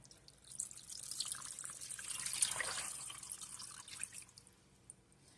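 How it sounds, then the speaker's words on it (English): Beef broth made from bouillon cubes dissolved in water is poured into a stew of beef, giving a steady splashing trickle that swells for a few seconds and then tapers off, close and moderately loud. "So to this, I'm going to add some beef broth."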